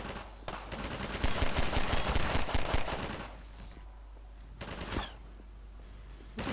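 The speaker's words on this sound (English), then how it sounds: "Would you please stop shooting at me?" Gunfire aimed at the player in Half-Life 2 Episode One, a dense burst of rapid shots for about three seconds, then a quieter lull and another short volley near the end.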